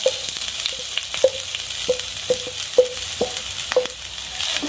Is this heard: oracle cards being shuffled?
no